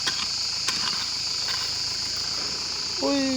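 Crickets in an olive grove on a hot 34-degree evening keep up a loud, steady high-pitched chirring throughout, with brief clicks and a short tonal sound near the end.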